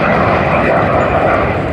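An aircraft at the Eastbourne Airshow roars past close and loud in a steady, continuous engine drone.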